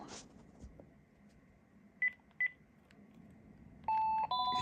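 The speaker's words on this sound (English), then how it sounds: "you'll see that the ringtone I selected on the first handset applies to this handset as well" A Panasonic KX-TG9344 cordless phone handset plays its ringtone: two short electronic beeps, then a longer tone pattern of sustained pitches. It sounds quiet and close, with no talking.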